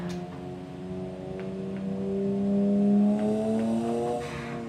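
A single turbo conversion BMW 335i in a racing video game, its engine note climbing and holding in a steady, close rev as the car accelerates, alone without talk.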